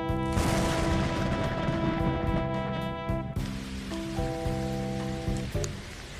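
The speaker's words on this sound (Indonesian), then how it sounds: "Dimulai dengan suara petir yang bergemuruh dan diikuti oleh turunnya hujan yang sangat deras." A heavy rain and thunder effect: a dense, loud roar of downpour with sharp booming cracks at the start and a sudden crash around the middle, steady and close throughout with no voices.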